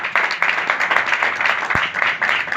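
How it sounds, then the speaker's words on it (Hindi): A church congregation claps in loud, rhythmic unison, the beats coming steadily in time as if keeping pace with a song, with no voices standing out above the clapping. "1 चट्टान के लिए एक बार जोरदार तालियां।"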